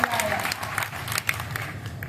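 Applause from the audience at a poetry gathering, a dense burst of clapping that swells and thins over about two seconds, with a voice speaking over it.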